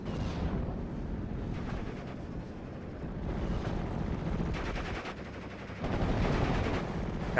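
MG42 machine guns firing in a WWII strategy game, with Panzergrenadiers shooting at an M1919 position: dense, continuous gunfire and battle noise throughout, swelling louder near the end.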